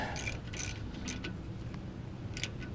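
A ratchet wrench tightens brake rotor bolts on a 2007 Ram 1500, giving a few quick, faint clicking bursts spaced apart over a low steady background.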